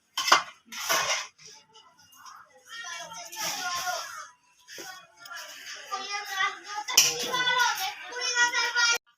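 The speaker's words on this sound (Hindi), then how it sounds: "अभी अब डिश आउट करने लगे हैं इसको" Tikka biryani being dished out at home, with repeated clinks and scrapes of metal spoons against pots and plates in short close bursts, while people talk throughout.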